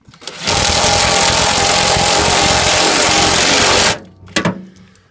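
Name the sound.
power tool tightening nuts on washing machine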